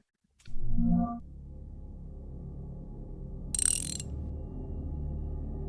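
A wrench is adjusted in the horror video game Tormented Souls: a metallic clunk, then a low mechanical hum and a brief bright ratcheting scrape near the end, all in a quiet room.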